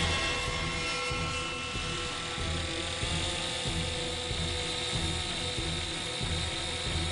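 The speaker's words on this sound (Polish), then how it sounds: "W helikopterze zamontowano kamerę, barometr i termometr skonstruowane przez Franka Gallaghera" A helicopter carrying a camera, barometer and thermometer for filming inside a tornado drones steadily with a continuous low rotor throb and mechanical whine, loud and unbroken throughout.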